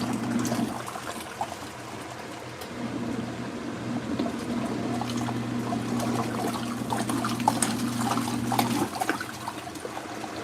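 Water sloshes and trickles inside an LG ThinQ MEGA Ultimate washing machine running a sportswear cycle on default settings, a steady close wash over a constant low motor hum.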